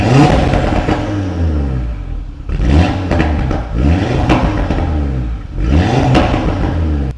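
An Audi RS3 engine roars loud and close, revving hard in repeated surges with brief dips between, a gritty clattering rasp under each rise in pitch and no voices.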